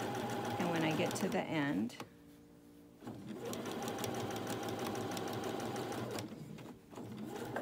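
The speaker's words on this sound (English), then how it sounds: "I'm just lining it up right on that line, and I'm just going to sew this down." A sewing machine stitches fabric for a DIY rug, its steady, rapid mechanical whirring running close and loud with one brief pause, while someone talks over it.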